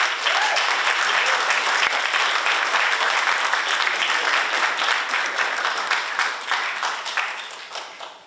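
An audience at a senior thesis presentation bursts into steady, dense applause to welcome a presenter, with many hands clapping close and evenly before it tapers off at the end.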